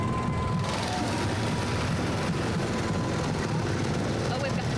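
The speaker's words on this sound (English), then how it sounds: "We still have their engines coming by. Yeah, that's what's picking up right now on our microphones." Engines of Shriners' parade vehicles rolling past at a Texas Rose Festival parade, a steady broadband rumble that holds loud throughout, with a voice speaking over it.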